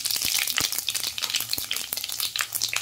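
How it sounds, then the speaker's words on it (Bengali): Panch phoron spices sizzle and crackle in hot mustard oil for a Bengali-style mango pickle, a dense, steady frying hiss broken by sharp pops and spits, close and continuous with no talking. "এবার আমি দিয়ে দিচ্ছি 5 ফোড়ন, তেলের মধ্যে দিয়ে দিলাম।"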